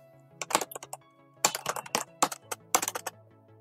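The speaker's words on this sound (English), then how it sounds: "Okay, I will write admin Murad." Keys clacking on a computer keyboard while entering an admin registration in a web app, quick clustered bursts of crisp close taps separated by short pauses, quiet and alone over a faint background hum.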